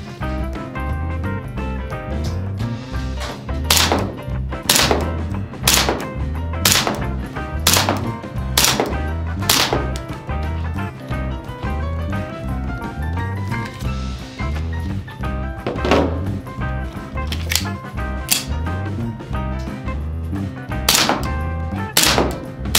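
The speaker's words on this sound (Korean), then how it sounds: "이렇게 두 탄창을 더 넣었고, 요 앞에 있는 이 작은 타켓을 쏠 거예요." A GBLS M1911A1 full-steel gas blowback handgun fires two magazines at a small target about 7 m away, giving a long string of loud, sharp reports at uneven intervals over a steady tonal background.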